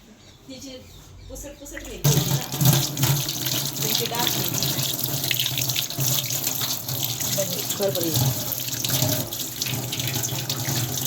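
Hands are washed under a running tap, a steady close rush and splash of water into a sink that starts abruptly and continues, with people talking over it.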